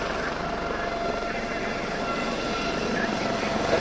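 Helicopters flown by military aviation pilots perform an aerobatic display at a helicopter expo in Tianjin, their rotor and engine drone a steady, moderately distant hum throughout.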